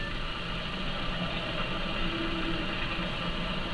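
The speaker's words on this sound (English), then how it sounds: "Keying engine." A spacecraft engine in the Halo 4 video game starts and settles into a steady, rumbling mid-pitched idle, holding constant with no voices.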